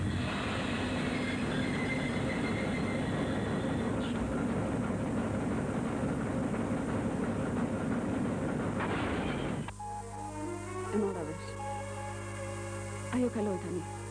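A train rolls past in a 1987 Albanian railway film scene, a loud, dense rumble lasting about ten seconds before it cuts off abruptly to a quieter scene with faint voices and tones.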